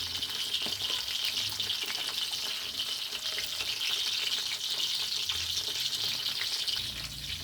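Fish packed full of roe frying in hot oil, a loud continuous close sizzle and crackle running without a break, with a few faint low bumps from the pan.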